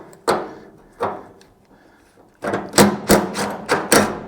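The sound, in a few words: 1/2 inch deep socket removing tailgate latch nut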